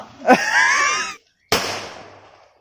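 A sharp firecracker burst during a festival celebration, with a whistling, wheezing hiss trailing off, a brief silence, then a second loud bang fading away.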